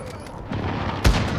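A cruise missile strike in Call of Duty Modern Warfare hits loudly, with a sharp blast about two-thirds of the way through over a steady rumble of game noise.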